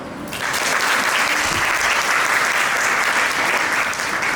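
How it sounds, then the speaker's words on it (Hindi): A large crowd of children at a symposium bursts into loud, continuous clapping after a brief quiet start, the dense applause holding steady to the end. "इस थीम पर एक बार ताली बजा दो।"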